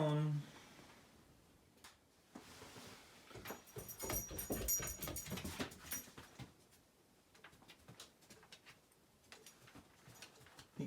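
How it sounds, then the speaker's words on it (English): Winnie, a pet dog, whimpers and whines indoors at close range in soft, uneven bursts, with faint ticking and rustling around it. "Winnie would be Amanda's dog, Roger's daughter."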